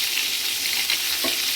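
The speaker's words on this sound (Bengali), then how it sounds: "পটলগুলোকে লাল লাল করে ভেজে নেব।" Pointed gourd (potol) frying in hot oil with salt and turmeric, Bengali style: a steady, close, even sizzle with a brief stirring knock near the end.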